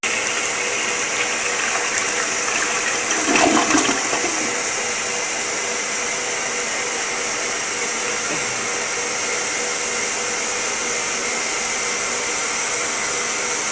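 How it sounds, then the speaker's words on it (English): A toilet flushing, a steady loud rush of water that runs for well over ten seconds, with a brief gurgling burst early on. "Damn fish won't flush."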